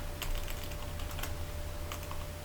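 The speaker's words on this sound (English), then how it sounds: "if I can type" Rapid, steady clatter of keys on a computer keyboard, close and continuous against a constant background hiss and hum, with no talking.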